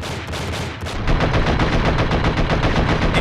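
Rapid automatic gunfire from the video game Enter The Matrix rattles in a dense, continuous stream of close, loud shots, picking up in intensity after a brief opening burst.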